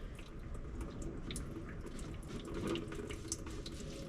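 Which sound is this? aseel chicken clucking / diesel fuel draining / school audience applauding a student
diesel fuel draining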